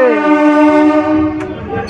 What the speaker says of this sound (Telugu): హాంకింగ్ ఎదరగొడుతున్నారండి లోకో పైలట్ గారు